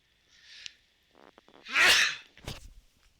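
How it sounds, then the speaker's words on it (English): A single loud sneeze very close up, preceded by a few short breathy intakes and followed by a brief sniff. "When I sneeze, it's really loud, especially if I've got a microphone this close to my face"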